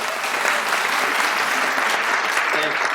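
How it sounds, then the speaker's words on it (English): Dense, steady round of applause from an audience at a city housing town hall meeting, loud and continuous throughout. "So let's give him a round of applause"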